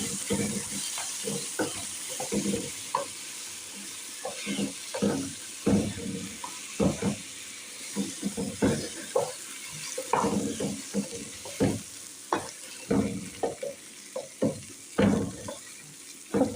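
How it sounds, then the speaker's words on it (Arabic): Rice and golden vermicelli frying in a pan while being stirred, giving repeated scraping strokes in an uneven rhythm over a soft sizzle, close by and with no speech. "احط الرز اقلب على طول عشان الشعرية مش هنحرق مني"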